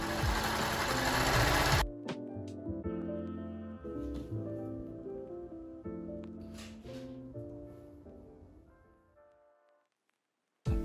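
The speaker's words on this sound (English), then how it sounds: "All I had left to do was sew both of the sleeves onto the torso," A sewing machine stitches the sleeves onto the torso of a woven tapestry sweater, running in a steady mechanical hum with rhythmic needle clatter that gradually slows and fades to silence.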